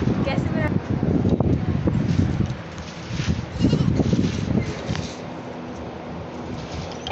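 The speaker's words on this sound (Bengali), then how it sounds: "এখন এই বাচ্চা ছাগলগুলো মোটামুটি একটু বড় হয়েছে।" Young goats bleat repeatedly at close range, their calls mixed with steady outdoor rumble and voices in the background.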